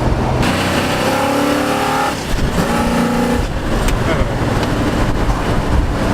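An old muscle car engine idles with a slow, choppy lope, loud and close, while people chat over the rumble.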